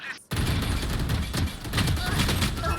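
Rapid gunfire from the agent Cypher in the tactical shooter Valorant, a dense, continuous burst of close, loud shots starting abruptly after a brief silence and filling the whole stretch, with a voice talking over it.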